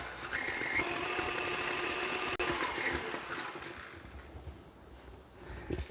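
A stand mixer with a whisk beats hamentashen dough ingredients including cow's milk, making a continuous mid-level motor whir with a faint rhythmic churning that fades slightly toward the end.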